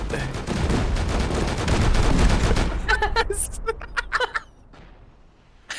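Rocket explosions and rapid gunfire fill a Rust video game 5v5 tournament match: dense, loud volleys and booms, then sharper scattered shots and blasts as the barrage thins out.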